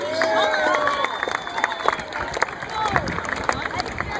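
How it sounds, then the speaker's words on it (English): Outdoor crowd at a homecoming parade claps and cheers for the seniors, a steady mix of scattered clapping and voices with whistle-like tones over it. "How about a round of applause for all of our seniors?"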